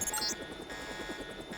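Jock's helicopter in the game Deus Ex: a steady, droning rotor hum with a faint buzzing whine, continuous and even in level throughout.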